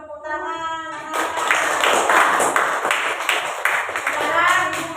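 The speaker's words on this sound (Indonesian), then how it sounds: "Kita tepuk tangan" A classroom of pupils claps hands together in a steady, fairly loud burst lasting several seconds, following a moment of a teacher's voice.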